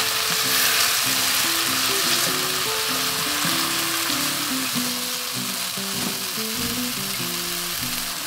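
Oyster mushrooms stir-fry in a pan with perilla seed powder, giving a steady close sizzle with scraping stir sounds throughout, no voices.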